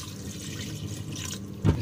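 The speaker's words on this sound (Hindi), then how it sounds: "पानी डाल के" Water is poured into a pressure cooker of aloo gosht holding potatoes and onion paste, a steady soft splashing with a brief louder gush near the end.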